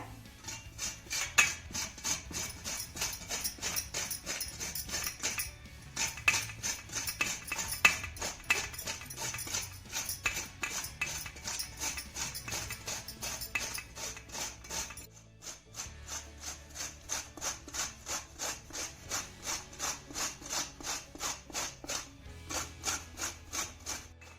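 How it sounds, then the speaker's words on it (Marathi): A ridge gourd being grated on a large-hole grater, giving a steady, rhythmic rasping scrape that repeats quickly and evenly, fairly faint and close, with a couple of brief pauses. "आपण आता हा दोडका मस्त असा किसून घेऊया"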